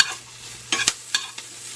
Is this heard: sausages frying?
yes